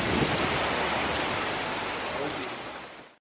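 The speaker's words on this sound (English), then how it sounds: "It's raining, it's pouring" Steady, dense rain hisses loudly and evenly, close by, fading slightly at the end.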